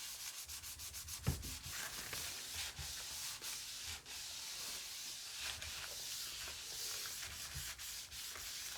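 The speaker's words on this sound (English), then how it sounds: "I prefer to use the scrubbing side for inside the sink" Sponge scrubbing inside a bathroom sink, rhythmic rough back-and-forth strokes with a hissy texture, close and steady, one brief knock near the start, no voices.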